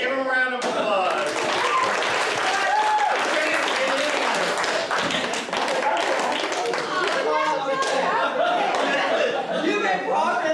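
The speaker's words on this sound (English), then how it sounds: "give him a round of applause" Lively audience applause with cheering and chatter at a live evening church youth event, dense clapping filling the room throughout with voices mixed in.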